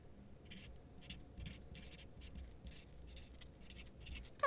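A chalk marker from a BeebeeCraft craft supply unboxing writes in quick repeated strokes with short scratchy rasps and brief pauses between them, close and quiet over a low steady room hum.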